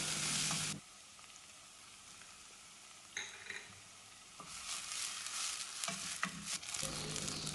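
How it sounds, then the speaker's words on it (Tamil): Onions and green chillies sauté in hot oil for a Muslim wedding-style mutton kulambu, giving a steady broadband sizzle with a louder burst at the start and occasional scrapes and stirs later on. "நான் இன்றைக்கி வெங்காயம், பச்சை மிளகாய் சேர்த்து வதக்கிட்டு"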